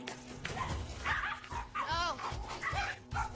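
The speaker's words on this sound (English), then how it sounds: "Just grab the dogs, y'all, because here comes Buttons and Princess" Two dogs barking and yipping in a neighbourhood setting, several short barks and whines scattered across the moment, close and fairly loud, with people talking over them.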